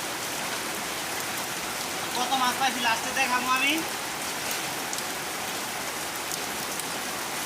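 Steady rain falling on a rainy day of catching fish, an even close hiss of drops on surfaces throughout, with someone briefly speaking over it.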